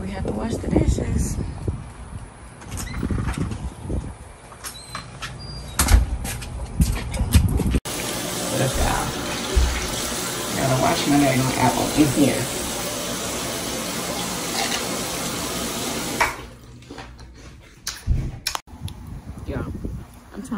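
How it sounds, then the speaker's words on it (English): Tap water gushes steadily for several seconds while dishes are washed at a home sink, a broad hiss that starts abruptly and then cuts off, with clatter and talking before and after. "This is how we have to wash the dishes."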